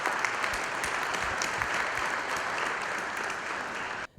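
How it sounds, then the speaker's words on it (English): Continuous audience applause at a conference on smart sustainable districts holds steady and full for about four seconds, then cuts off abruptly. "A round of applause, please."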